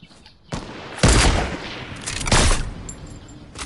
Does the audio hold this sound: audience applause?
no